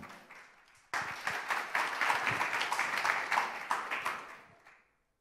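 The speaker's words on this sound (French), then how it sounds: "sous vos chaleureux applaudissements, d'accueillir David de Quant" An audience bursts into warm applause welcoming a guest speaker to a talk on smart cities and open data; dense clapping starts abruptly after a second of quiet room tone, holds steady, then tapers off to silence.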